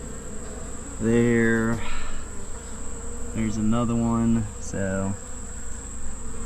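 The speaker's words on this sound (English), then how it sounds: "we got the bees actually killing a wax moth" Honey bees buzz as a steady drone from an opened hive during a July honey harvest, someone speaking over it in bursts.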